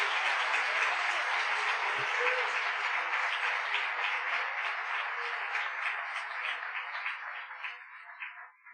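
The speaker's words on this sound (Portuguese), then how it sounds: "eu queria que você aplaudisse ao Senhor" A church congregation applauds in a dense, steady wash of clapping that lasts throughout, gradually thinning and fading toward the end, with no talk over it.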